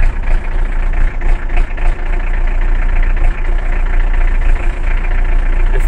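A Rastrojero light truck engine idles roughly and loudly after a cold start on a frosty day, with an uneven knocking pulse that keeps going throughout.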